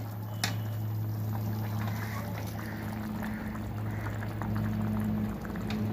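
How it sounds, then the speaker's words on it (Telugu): Tamarind curry with maga fish simmers in a covered pot, giving a steady, low bubbling hiss with a faint hum underneath, close and even throughout and without speech. "ఇంకా కొంచెం మరగాలి, అయిపోయినట్లే."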